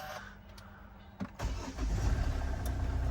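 A car engine cranks and fires up, then settles into a low, steady rumbling idle with a slight rattle, close and fairly loud, in a car about to have its engine removed.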